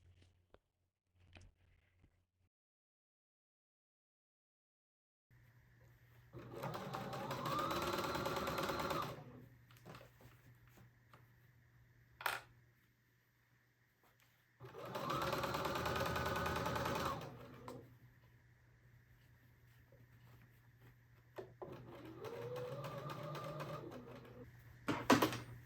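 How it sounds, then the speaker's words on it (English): Sewing machine stitching close along the edge of a fabric book sleeve in three bursts of rapid, whirring, close-up stitching separated by quiet pauses with a low hum and a single sharp click between them. "you're going to go right along the edge, really close stitching"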